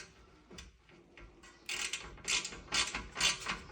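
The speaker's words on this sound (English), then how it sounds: "without my little screwdriver. Goes both ways. Turns it in, turn it out." A small ratchet screwdriver is turned by hand, giving soft clicking at first and then louder bursts of rapid ratcheting clicks, close and with no talking.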